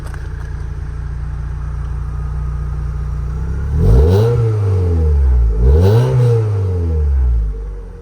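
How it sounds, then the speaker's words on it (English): A warm 1996 Toyota MR2 GT sports car engine idles steadily, then gives two quick, loud revs that rise and fall sharply, close by with no one talking. "This engine is warm, so I will give it a very quick rev."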